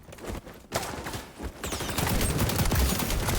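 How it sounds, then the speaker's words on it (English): Video game gunfire crackles in dense, rapid bursts of automatic shots that build into continuous loud firing, close and without talk. "Oh, we are shooting right now."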